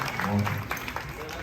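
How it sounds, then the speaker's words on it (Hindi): A short burst of applause from an audience at an Independence Day program, brief and moderately loud, mixed with voices and crowd murmur. "बहुत बहुत जोरदार तालियां"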